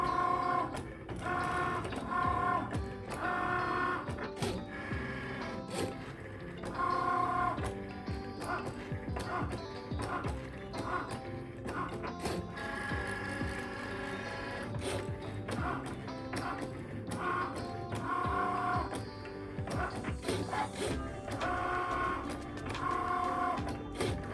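A Cricut cutting machine cuts heat transfer vinyl lettering for a swimsuit, giving a close, steady mechanical whir. Quick ticking and clicking recur throughout as the blade carriage shuttles back and forth.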